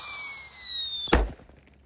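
A Whistling King Thunder firecracker: a high, falling whistle for about a second, then one sharp, loud bang that fades quickly into quiet.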